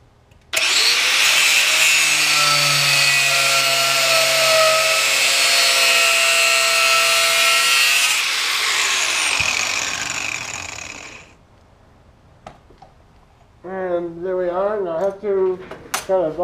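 A power saw cuts through a clamped handle piece, whining loudly and steadily for several seconds before spinning down, followed by a few clicks and a person speaking.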